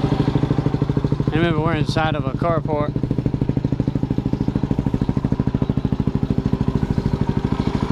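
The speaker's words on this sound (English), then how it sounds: "Let me show you all this exhaust." Under a carport, a Yamaha WR250R dual-sport motorcycle idles steadily with a fast, even exhaust putter that stays close and loud throughout, while someone talks briefly over it near the start.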